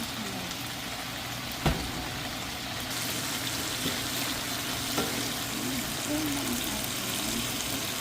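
Green beans sautéing with oyster sauce in a pan give a steady, close sizzle and hiss with a few brief clinks of stirring throughout.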